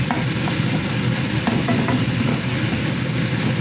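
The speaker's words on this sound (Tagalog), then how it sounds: "Tinutunaw ko yung aking kamatis kasi gusto ko yung kamatis ay" Tomatoes cooking down in a frying pan, a loud continuous close sizzle with scattered scraping taps from stirring.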